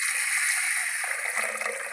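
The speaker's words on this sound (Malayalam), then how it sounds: "ഇനി മുതിര വേകാൻ ആവശ്യത്തിന് വെള്ളം ഒഴിച്ചു കൊടുക്കുക." Water pours steadily from a vessel into a pressure cooker holding washed horse gram, a continuous close, moderately loud splashing gush for about two seconds with no talk.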